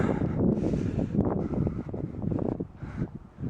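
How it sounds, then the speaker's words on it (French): Gusty wind buffets a microphone in low rumbling surges that rise and fall, with no other clear sounds. "Alors là, il y a du vent."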